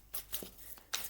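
Tarot cards shuffled for a card reading, giving several short papery riffles and flicks close by, in bursts separated by brief pauses.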